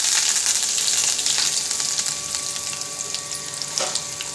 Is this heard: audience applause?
no